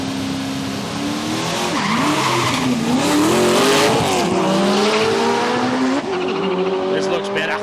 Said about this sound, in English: Both these boys in the manual class, a little rotary powered Corolla.